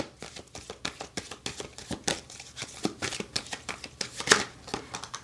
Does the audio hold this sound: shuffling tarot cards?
yes